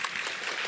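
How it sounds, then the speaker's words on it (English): A crowd of participants at a youth program opening ceremony applauds, with steady close clapping throughout and a little voice mixed in. "Give you guys a round of applause."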